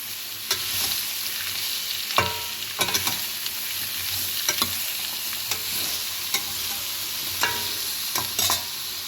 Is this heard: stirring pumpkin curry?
yes